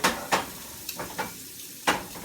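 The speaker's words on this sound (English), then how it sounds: "once your egg is nice and toasty, you're going to want to sort of flip it" An egg frying in a pan, soft sizzling with a few scraping and stirring strokes as it is handled, quiet and close with no talking.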